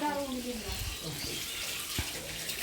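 Water from a tap splashes and runs as a washing stone is scrubbed clean with soap, a steady close wash with brief knocks and voices faintly in the background.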